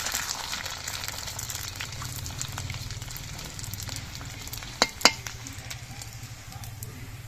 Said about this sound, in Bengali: একইভাবে আমি সবগুলো পাপড়ই ভেজে নিচ্ছি